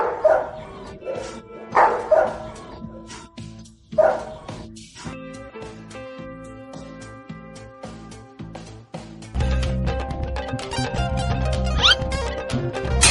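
A dog lets out a few sharp, loud barks near the start, spaced about a second apart, before a steady, louder tonal sound takes over toward the end.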